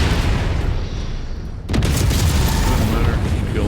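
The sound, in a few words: missile explosion in a mech video game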